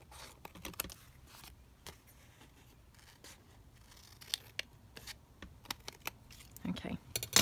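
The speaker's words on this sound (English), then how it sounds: "I'm going to have to snip it off across here" Scissors snip across printed book-page paper for junk journal ephemera, a run of short sharp crisp cuts spaced irregularly, close and moderately quiet, denser toward the end, with no one talking.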